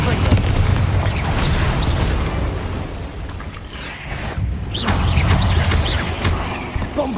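Confringo fire spells explode in Hogwarts Legacy, a dense run of loud booming blasts and crackling bursts layered with mechanical clatter, the barrage continuing almost without pause.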